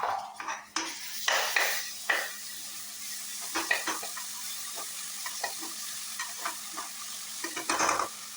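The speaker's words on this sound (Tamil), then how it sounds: "லோ ஃப்ளேம்லேயே வச்சுக்கலாம். நல்லா வதங்கட்டும்." Ginger, garlic and pepper paste sautéing over a low flame, a steady soft sizzle broken by repeated scrapes and clinks of a spoon stirring against the pan, close and fairly loud, with no talking.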